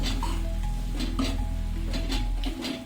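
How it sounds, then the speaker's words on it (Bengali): Spice paste sizzles in a frying pan for a quick chicken dish while a spoon stirs it, giving a steady frying hiss with soft scraping and light clinks against the pan. "গুলে রাখা মশলাগুলোকে দেওয়ার পর একটু নাড়িয়ে নেবো"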